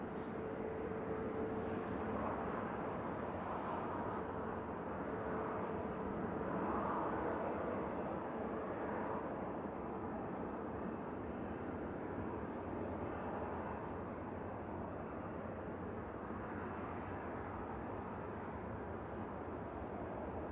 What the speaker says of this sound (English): the plane taxi now is going to Beijing. It's the Hainan Airlines Airbus A330-300